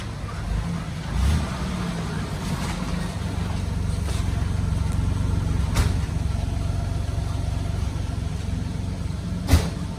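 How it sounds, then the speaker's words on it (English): A 1985 Pontiac Grand Prix exhaust idles with a steady low rumble, running evenly throughout, with a few brief clicks and knocks on top. "The exhaust sounds pretty good."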